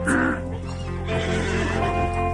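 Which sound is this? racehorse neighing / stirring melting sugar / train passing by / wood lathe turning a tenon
racehorse neighing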